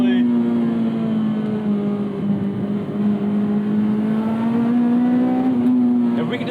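A Mini Cooper JCW with a K-swapped Honda K20Z3 engine pulls hard under load, giving a steady, loud droning engine note that climbs gradually in pitch and fills the whole stretch.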